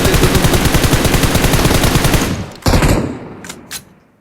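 Loud rapid automatic gunfire in PUBG Mobile, a sustained burst of fast shots for over two seconds that stops abruptly, followed by a few scattered single shots.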